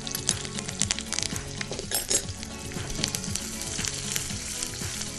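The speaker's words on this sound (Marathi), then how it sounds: "आता ह्याच्यामध्ये आपल्याला जी आपल्याकडे हिरवी मिरची आहे ही त्याच्यात घालायची आणि कढीपत्ता." Green chillies and curry leaves sizzling in hot oil with fried spices, a lively crackling fry with utensil scrapes and light clinks of stirring close by.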